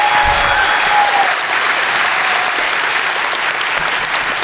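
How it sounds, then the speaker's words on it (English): A live-event audience gives a sustained round of applause, with steady, even clapping from many people throughout and no talking. "Can we have another round of applause for this team's work?"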